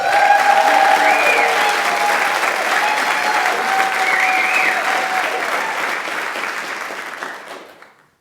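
Audience applause greets a speaker walking onto the DEBx stage at a November 2019 talk event, a steady sustained clapping from a full room that holds evenly for about seven seconds before fading out.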